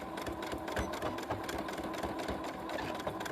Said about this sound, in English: when I get up to the top I'm going to do a couple of reverse stitches